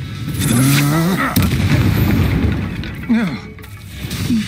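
Explosive Bombarda and Confringo spells detonate in Hogwarts Legacy, loud booming blasts mixed with a character's shouted voice and game sound effects.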